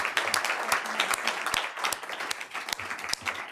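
Round of applause from an audience at a school board of education meeting, lively clapping from a sizeable group with sharp individual claps standing out, fairly close and steady for a few seconds.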